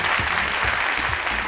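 Audience applause in a TV studio for a midday show, a brief, dense and loud burst of steady clapping.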